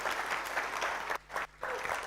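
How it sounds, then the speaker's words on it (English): An audience applauds at a startup pitch event, dense clapping that drops out twice briefly before resuming. "A round of applause for Ernest."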